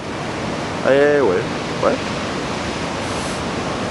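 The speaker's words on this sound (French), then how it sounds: "il y a des vagues un petit peu partout" Ocean surf at the beach in Anglet forms a steady broadband wash of waves, fairly loud and continuous throughout, with a brief voice speaking over it near the start.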